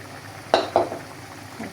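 Fish and bean seed curry with coriander leaves cooking in a pan, giving a soft steady simmer broken by two quick spoon taps on the pot.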